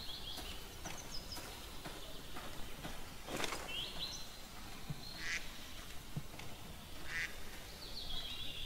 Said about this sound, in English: Why the hell is a duck sitting out here in the woods?